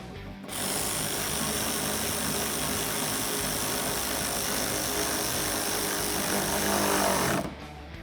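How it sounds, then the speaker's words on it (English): A power tool drives sockets onto fender flare bolts on a 2016-2021 Toyota Tacoma, one continuous loud mechanical whir lasting about seven seconds and then stopping. "I'm going to tighten it up with an 8mm socket"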